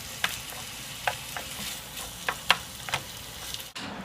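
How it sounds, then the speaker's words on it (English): Stuffed pepper filling sautéing over lower heat in a pan makes a steady, close sizzle broken by repeated scrapes and knocks as a utensil stirs it, and no voices are heard. "we're going to turn it to a lower heat, and we're going to go ahead and saute that all together."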